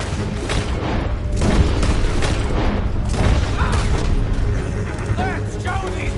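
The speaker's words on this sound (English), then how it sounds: "But why do you shoot those bastards?" Gunfire and booming blasts from a Red Dead Redemption 2 shootout, dense and continuous, layered with game sounds and shouted voices throughout.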